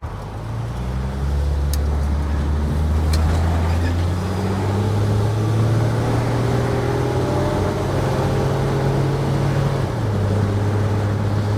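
Steady low drone of a Ford Falcon cabin on the move with its rebuilt 6.75 inch differential, engine and road rumble holding evenly throughout, a slight shift in pitch near the end, and no talking over it.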